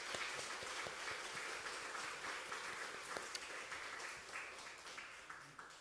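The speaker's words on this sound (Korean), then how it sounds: "자녀들에게 힘찬 격려의 박수" A church congregation at a Sunday worship service applauds in encouragement of their children, a full sustained round of many hands clapping that holds steady and tapers slightly toward the end.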